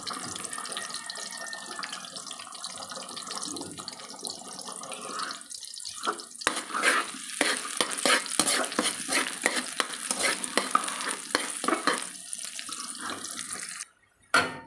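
Garlic frying in a pan for a breakfast of longganisa and tilapia, a steady hiss of sizzling oil with stirring clatter and scraping strokes growing busier midway, close and alone before cutting off near the end.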